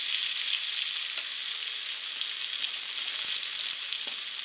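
Diced potatoes fry in a pan with a steady, even sizzle throughout, close and continuous, with a few faint clicks of stirring and no voices.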